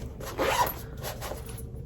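A zipper on a handmade fabric front-zip bag is pulled in a short, quick rasp, close and fairly quiet, with no talk.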